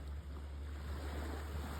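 Gulf Shores, Alabama surf washes steadily onto the beach, a continuous soft roar of breaking water mixed with wind buffeting the microphone.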